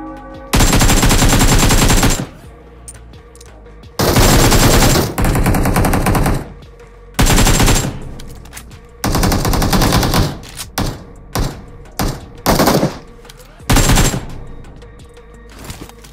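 Loud, close automatic gunfire from PUBG Mobile (BGMI) comes in several long, sustained bursts with short quiet gaps between them.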